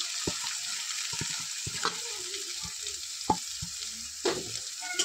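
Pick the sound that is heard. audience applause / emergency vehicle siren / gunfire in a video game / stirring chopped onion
stirring chopped onion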